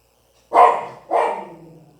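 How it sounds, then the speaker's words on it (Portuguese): Small dog barking, frightened by a pot-banging protest nearby: two sharp, close barks about half a second apart, loud and alone. "eu tenho um cachorrinho e ele tá um pouco assustado, me perdoem o barulho"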